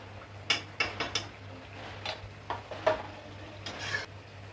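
Mutton karahi with crushed red chili flakes sizzles in a pan while a metal spoon stirs it, producing quick scraping clanks in uneven bursts over a steady low hum, close up with no speech.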